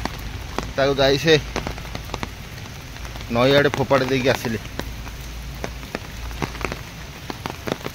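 Heavy rain falls steadily in a continuous wash of broadband hiss, with voices speaking over it in two short bursts and sharp drops or taps cutting through now and then.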